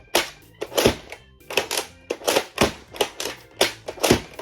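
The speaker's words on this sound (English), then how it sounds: "The slam fire is also pretty good, except for the fact that there's an awkward extra click when you hit the back, only when you slam fire it" A Nerf N-Series Infinite blaster is slam fired, giving a rapid series of sharp plastic clacks in close pairs, each cycle with an extra click, repeating about twice a second up close.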